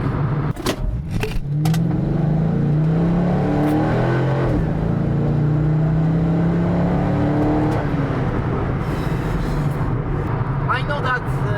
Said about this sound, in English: I know that a lot of people modify this exhaust, so the sound is not amazing, but it's quite okay